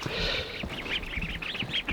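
Young ducks quack and peep in quick overlapping bursts outdoors, several birds calling close by in an irregular, chattering stream.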